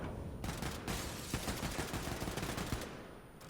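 Rapid automatic gunfire in the shooter game Wolfenstein 2, loud continuous bursts of shots with brief pauses between volleys.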